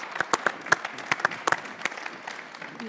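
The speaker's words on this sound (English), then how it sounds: "please give them a round of applause" Sparse, scattered applause from a small audience welcoming guests at a policy forum, individual claps distinct and uneven, fairly close.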